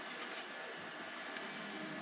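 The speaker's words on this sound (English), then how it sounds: "Train's back at the station." Steady rumbling rail noise with a faint metallic squeal, a video game train rolling continuously at moderate loudness with no pauses.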